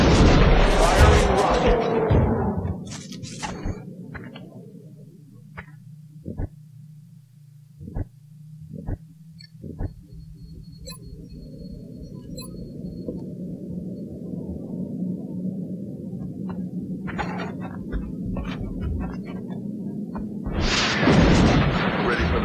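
Rocket launched and exploding in the video game X-COM Enemy Unknown, a loud burst at the start, a few sharp impacts and a low rumbling drone, then another heavy blast near the end.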